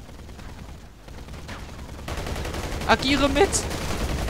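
Gunfire rattles through a round of the game Battlefield Heroes, bursts of shots building in the second half over busy game ambience while German voices speak.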